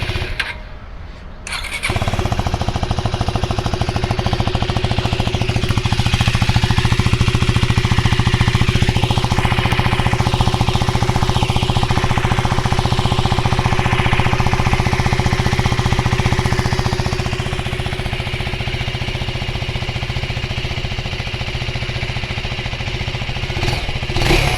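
A 2024 Husqvarna Svartpilen 401 motorcycle engine fires up and idles steadily, a loud, close, deep thumping exhaust note that holds a constant rumble for over twenty seconds with slight rises in revs.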